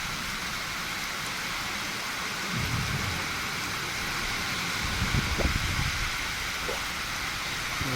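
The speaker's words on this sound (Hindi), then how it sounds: "कितना जोर का बारिश हो रहा है।" Heavy rain falls during a sudden storm with strong wind, a constant loud hiss that fills the scene, broken by a couple of deep rumbling swells.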